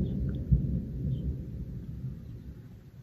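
Thunder rolls as a low, continuous rumble during a storm, steady and fairly loud with one slightly sharper swell early on, with no voices.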